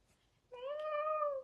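A person imitates a cat's meow, one drawn-out, clear, tonal mew rising then gently falling, close and fairly loud against a quiet room.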